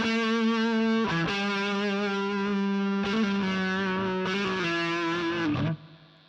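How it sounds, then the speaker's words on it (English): Electric guitar played through a distortion pedal with an overdrive pedal boosting it in front, ringing out sustained, heavily saturated chords with a few changes before cutting off near the end. "Now I can boost that even more with an overdrive pedal in front of it."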